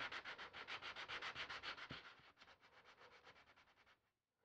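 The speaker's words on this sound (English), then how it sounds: "sand it like this. Don't want to take off too much" A wooden wing panel for a rocket-boosted glider is hand sanded in fast, even back-and-forth strokes, close and soft, the rhythm steady before stopping abruptly.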